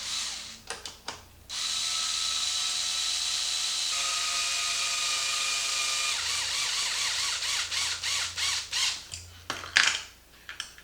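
A power drill runs steadily for several seconds while fitting a chassis brace on a Traxxas X-Maxx RC truck, its whine holding level then stuttering into short bursts and clicks near the end, close and alone.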